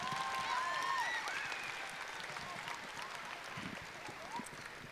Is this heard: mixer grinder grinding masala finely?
no